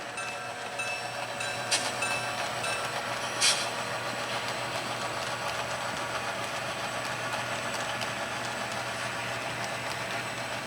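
Model trains run around a model railroad layout during an operating session, giving a steady mechanical hum and whir with a couple of brief metallic clicks, with no one talking.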